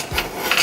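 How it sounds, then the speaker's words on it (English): Spatula scraping melted chocolate from a pan into a bowl, a brief metallic scrape with a couple of clinks, close and moderately loud. "I'm gonna just scrape the chocolate"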